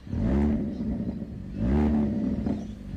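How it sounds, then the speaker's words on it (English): A car exhaust revs twice, each rise swelling into a deep throaty roar and settling back to a low rumble, close by and loud. "this has a sweet exhaust. Let me show you exactly what I mean."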